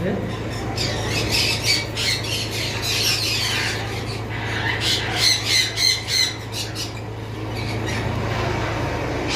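Cream-face red-eyed cockatiels kept for sale squawk repeatedly in harsh, close bursts over a constant low hum, with chatter from nearby birds filling the background.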